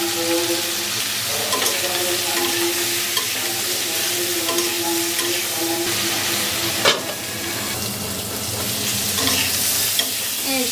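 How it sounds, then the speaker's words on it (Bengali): Potatoes and bitter gourd frying in oil with turmeric hiss in a loud, steady sizzle, with scraping stirs and a knock against the pan partway through, close and continuous without speech. "আলু আর করলা ভেজে নেব।"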